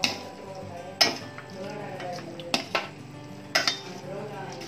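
A utensil stirs mushrooms and cabbage in a pan for road-side mushroom Manchurian, with about five sharp metallic scrapes and clinks spaced irregularly over a low sizzle.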